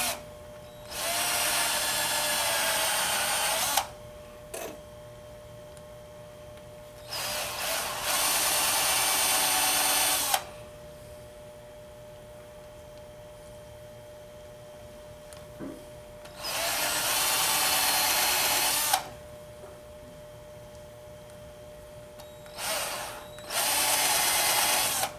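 A power drill bores into wood for a spiked star ornament in repeated whining bursts of a few seconds each, separated by quiet pauses, close and fairly loud over a low background hum.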